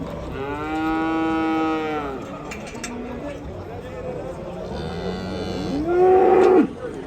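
Cattle at a bull market in Jany-Nookat low loudly, with one long moo, then another drawn-out call a few seconds later, over a murmur of crowd chatter and nearby talk.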